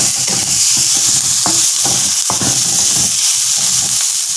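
Onions fry in a pan and are stirred, making a loud, continuous sizzle broken by repeated scraping strokes of the spoon.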